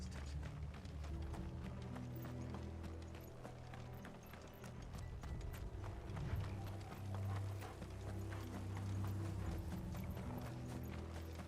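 Steady clip-clopping of horse hooves at a brisk pace over a low rumbling soundtrack in the video game Final Fantasy XVI, continuous throughout.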